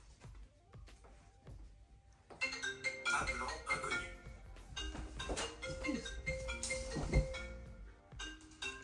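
A mobile phone rings with a bright, repeating electronic melody that runs for several seconds, loud and close, with some clinking and brief voices around it.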